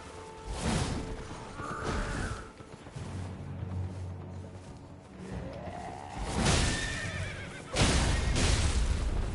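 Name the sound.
horse neighing in video game Elden Ring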